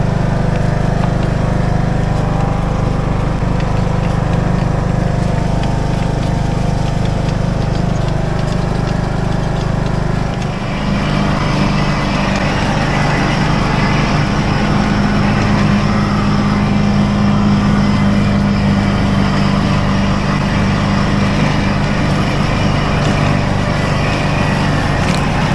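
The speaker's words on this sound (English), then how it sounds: "Let's start my mower up and carry on." A lawn mower engine runs steadily and loudly up close, a constant droning hum with a brief dip partway through before it carries on at the same level.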